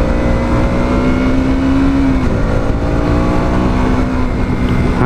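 A KTM Duke 200, a 200cc naked sport motorcycle, revs loudly and steadily up close, its engine pitch climbing, dropping briefly as if through a gear shift, then rising again.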